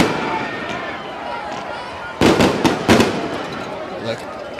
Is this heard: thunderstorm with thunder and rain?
no